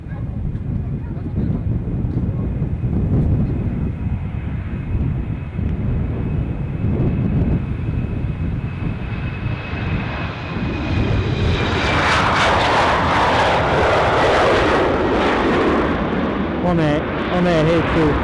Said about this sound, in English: Waiting for the KLM Embraer 190 to come into shot.